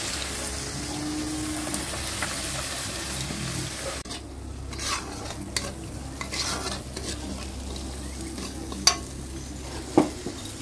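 Spice paste with whole bay leaves and salt being stirred and fried in a pan for a banana flower curry, a steady close sizzle under repeated scraping strokes of the spoon, with a few sharper clacks near the end.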